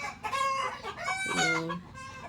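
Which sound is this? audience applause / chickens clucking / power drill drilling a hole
chickens clucking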